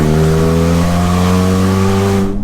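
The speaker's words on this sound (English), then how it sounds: "wow, does it feel so good to be driving a Celica again" A Toyota Celica's engine roars loudly and steadily from inside the car while driving, its droning note holding level before cutting off abruptly at the end.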